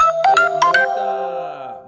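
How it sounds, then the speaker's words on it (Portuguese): A phone ringtone plays during a leadership talk, a bright electronic melody of several quick rising notes that rings out and fades over about two seconds, clear and fairly loud with no talking. "o telefone tocando aqui"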